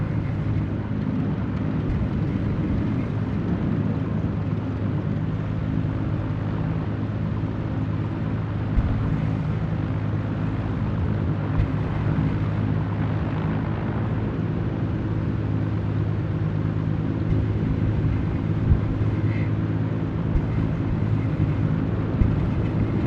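Aircraft taxiing onto a snowy runway in Microsoft Flight Simulator 2020 produces a steady low engine rumble and drone, constant and fairly loud throughout with no talking.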